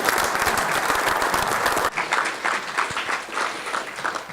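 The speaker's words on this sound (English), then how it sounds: "Let's give her another hand of" Audience applause for keynote speaker Allie at a veterans' small business conference, dense steady clapping from a crowd, swelling slightly after a brief dip partway through and continuing throughout.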